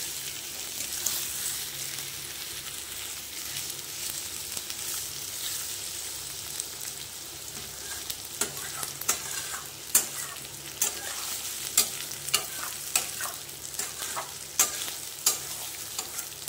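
Curry sautéed and stirred in a pan for a radish and morola fish dish, giving a steady close sizzle with repeated sharp scraping strokes of the spoon growing more frequent toward the end, no voices.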